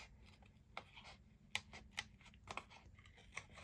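Scissors snip out paper for a handmade card, leaving a thin white border, in a handful of quiet, crisp, separate cuts spaced about half a second apart in a hushed room.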